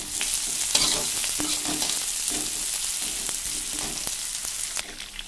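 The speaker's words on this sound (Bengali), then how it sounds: "আর আমি পেঁয়াজ ছেড়ে দিয়েছি। এবার না একটু পেঁয়াজ লাল লাল হয়ে যেয়ে সেই আমি রসুন আর আদা আবার ছেড়ে দিলাম" Onion, garlic and ginger fry in a pan with a dense, steady sizzle close up, broken by soft stirring scrapes and occasional light clicks.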